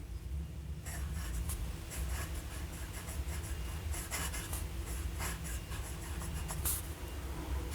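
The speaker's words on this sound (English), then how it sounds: "For the writing sample, as usual, I'll be using my Rhodia dot pad, just really good paper." A Sheaffer Prelude fountain pen with a broad, wet medium nib scratches across a Rhodia dot pad, giving a continuous soft rasp with quick stroke accents, close and quiet with no talking.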